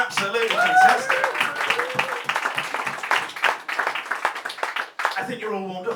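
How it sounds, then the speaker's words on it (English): A comedy-club audience breaks into a round of clapping and cheering, uneven and lively, while voices talk and laugh over it. "Round of applause, that was absolutely fantastic."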